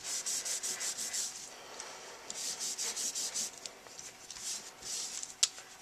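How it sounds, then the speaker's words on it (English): A regular Kleenex tissue wipes excess distress ink off an embossed card, making quiet, rhythmic rubbing strokes in a steady back-and-forth pattern with a small tap near the end. "I'm going to go over just with a regular Kleenex and take off that extra ink"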